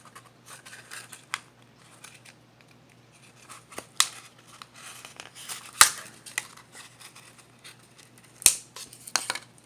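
Wood is cut and split by hand to make the block for a Native American style flute, heard up close as sparse, irregular cracks, snips and scraping crackles over a low steady hum, with no talking.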